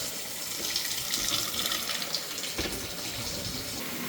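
A cold water tap runs into a sink during plumbing work, a steady close splashing rush of filling water with a brief louder gush near the end.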